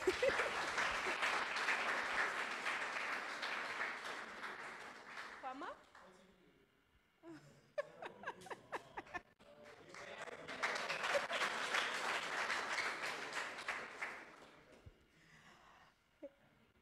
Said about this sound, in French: vite nous applaudissons Tony B